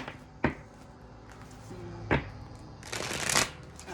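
Brisk oracle card shuffling: a few sharp riffles and flutters, then a longer rustling burst near the end, close and fairly loud, with no talking.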